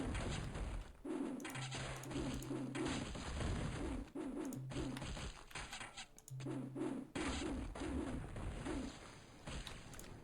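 Pigeon-like birds in the strategy game Total Annihilation Kingdoms coo in repeated rhythmic phrases, three separate cooing bouts over steady game background noise, with no talking.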